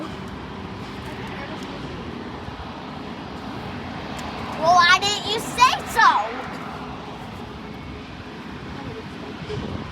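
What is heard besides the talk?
Airbus A380 airplane flying overhead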